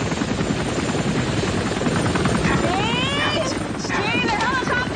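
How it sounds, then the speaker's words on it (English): Helicopters chop overhead in a loud, continuous thrum, with people talking and shouting beneath the steady rotor noise. "the helicopters are here!"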